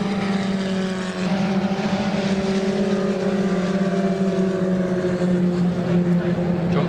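Historic Lotus 61 Formula Ford race cars racing at Donington Park, loud engine notes droning and rising in pitch close by throughout, with layered tones from the closely matched cars.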